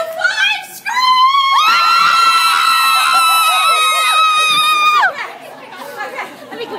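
A crowd of children screams and cheers together in a loud, sustained burst lasting several seconds, with chatter before and after it.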